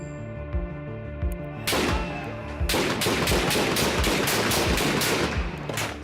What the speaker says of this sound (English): Same shots.